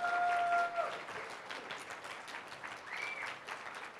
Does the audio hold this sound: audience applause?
yes